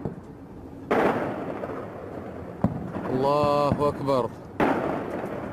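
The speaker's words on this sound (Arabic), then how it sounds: "طيران الميج يقوم بقصف أحياء طريق السد" Shelling by MiG aircraft on a residential neighbourhood in Daraa produces two sudden heavy blasts, loud and broad, separated by a few seconds, while someone shouts between them.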